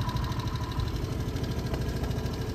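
A scooter motorbike engine running on a ride with friends in Nepal, a steady close throbbing drone with a rhythmic low knock and no talk.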